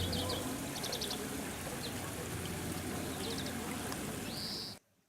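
Birds chirp in short repeated trills over the steady rush of stream water in a valley around a mountain Buddhist temple, the birdsong fairly close and clear against the constant flowing water.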